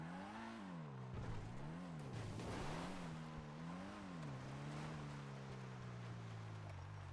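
A car in a video game accelerating onto a freeway: a steady engine drone rising and falling in pitch as it shifts through gears, continuous and fairly near.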